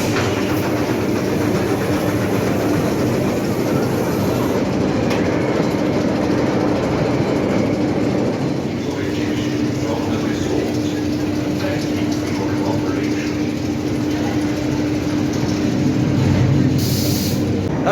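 Oblivion roller coaster at Alton Towers, a loud continuous rumbling roar of the cars running along the track with rattling clatter, steady throughout with a brief hiss near the end.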